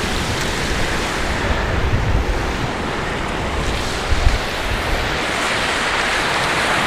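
Sea waves wash out on a beach in a steady, loud roar of surf and rushing water, mixed with wind buffeting the microphone, with no voices.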